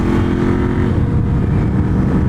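A motorcycle on twisty roads comes back on the throttle mid-turn, a loud, close engine roar with a brief steady tone before a rough, rising rumble.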